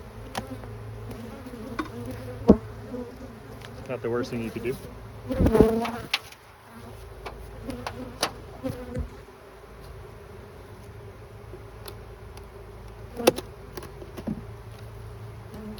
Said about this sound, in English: Now that does put all your bees airborne.